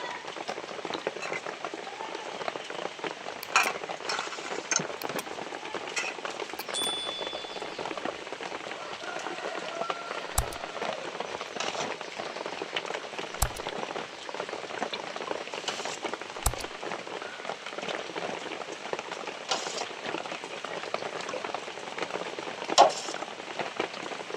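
Homemade mango drink pours into bottles through a funnel as a steady, even liquid trickle and gurgle lasting a long stretch, with occasional small clicks and knocks.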